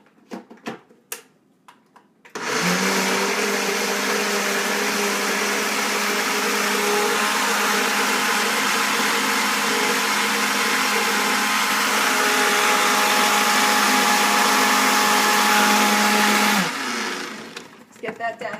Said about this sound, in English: So now what I do is I blend it.